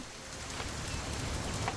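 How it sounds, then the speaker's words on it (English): Rain falls in the video game What Remains of Edith Finch as a soft, steady, even hiss of drops that is faint throughout and has no voices over it. "It's gonna rain the whole weekend, isn't it?"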